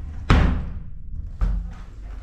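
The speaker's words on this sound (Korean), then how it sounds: "문을 닫으면" Hotel bathroom door closing, a sharp close thud followed about a second later by a second softer knock, near and brief in a quiet room.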